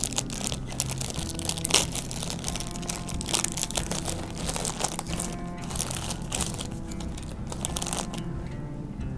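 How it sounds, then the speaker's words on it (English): A plastic bag holding a Covid test tube is torn open and handled, giving close, continuous crinkling and crackling of plastic with bursts of sharper rustle, no voices. "Then I open the bag with the test tube."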